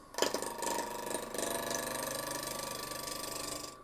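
A wood lathe spinning a wooden pie server blank at about 1500 rpm, a steady whirring mechanical hum with a faint rhythmic ticking, close and continuous after a brief initial clunk.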